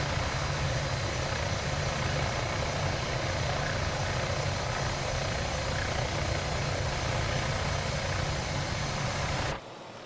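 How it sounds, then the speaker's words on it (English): Simulated helicopter engine in Microsoft Flight Simulator pushed hard at high speed: a loud, steady rotor and turbine roar with broadband whine, continuous and close, cutting off abruptly near the end. "I am pushing my helicopter hard right now."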